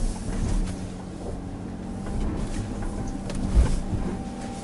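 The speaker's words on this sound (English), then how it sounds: "You can hear the engine working away here." Low, steady engine drone of a Bentley Bentayga climbing a loose muddy slope, with a laboring hum that rises and falls slightly as the vehicle strains, without voices.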